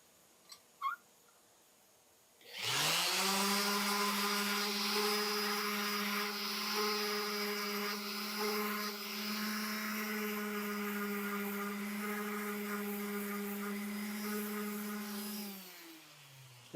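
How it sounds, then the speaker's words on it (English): A power grinder works the shelf of a Bob Garner recurve bow during a rework, starting up after a couple of faint clicks and running as a loud, steady whine for about thirteen seconds before winding down. "right after I was done grinding"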